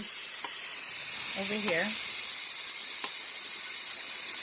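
Steam rushing out of the pressure-release valve of an electric quick-cooker pot while cooking steaks in red wine sauce, a loud, continuous, even hiss throughout, with a person speaking briefly near the start.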